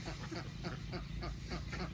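Egg-laying ducks on a farm housed in a converted old pig pen, with steady overlapping quacks and rustling water and movement throughout, close and dense, with no talk.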